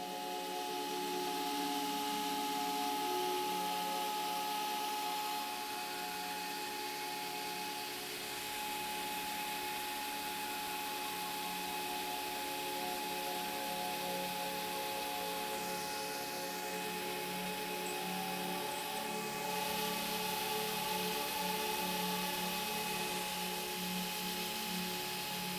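A CNC machine cuts a wood veneer layer with a new 4mm flat end mill, making a steady, faint, continuous whine and hum that holds evenly throughout with no talking.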